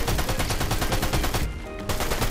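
Rapid, sustained SMG fire from a video game rattles loudly in a steady automatic burst, briefly pausing near the end before resuming, with no talk over it.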